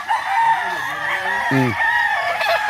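A young rooster (stag) crows nearby in a rural yard, a short, rough, rising call that rings out once amid steady background noise and other farm birds.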